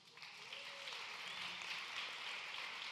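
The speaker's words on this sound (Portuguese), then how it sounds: "Gente, vamos aplaudir." Congregation applause during a church service, a soft continuous patter of clapping from a room full of people, faint and even, with a brief tonal whine near the start.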